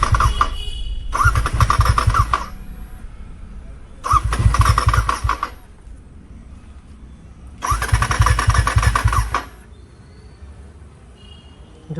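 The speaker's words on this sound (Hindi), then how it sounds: "बाइक स्टार्ट नहीं हो रही है फिर से।" Royal Enfield Super Meteor 650 motorcycle with a self-start fault cranks three times, each loud, close starter burst lasting one to two seconds, separated by quieter idle-like gaps as the engine struggles to catch.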